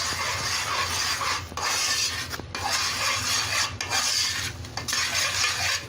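Gram flour (besan) batter stirred in a pot, a steady close scraping and rasping of the spoon against the pot bottom in repeated strokes, with occasional sharp clicks, no voices.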